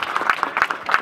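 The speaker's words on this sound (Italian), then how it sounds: "Applauso." Brief burst of audience applause at a live Friulian comedy show, scattered claps swelling over about a second with no voices.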